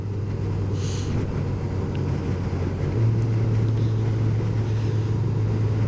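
Engine of a 2022 Honda CB1000R Black Edition motorcycle while riding, a steady loud drone with wind rush throughout and a brief pitch shift near the three-second mark, no talking.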